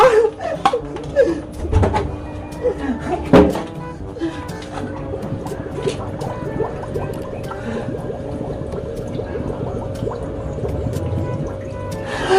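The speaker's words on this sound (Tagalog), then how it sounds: "Lalagyan ko na tong tubig, tong water blaster ko." A plastic water blaster toy being filled with water indoors, with trickling and dripping liquid, a few louder knocks and squishes early on, then a steady running fill that continues to the end, no talk over it.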